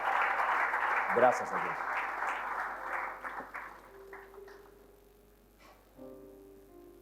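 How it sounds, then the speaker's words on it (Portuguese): A church congregation applauding as a guest enters, brisk clapping that fades over a few seconds, with a voice speaking over it before a few sustained tones come in at the end. "Uma linda salva de palmas que está entrando."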